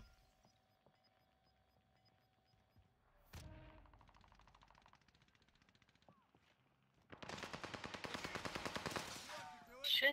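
Bursts of rapid automatic gunfire in an online duos shooter match, a steady rattling stream followed by a louder, denser volley near the end, with quiet stretches between.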